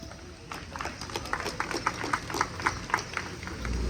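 An audience at a university orientation day applauds new members, a brisk, moderately distant patter of many hands clapping that swells slightly and continues for a few seconds.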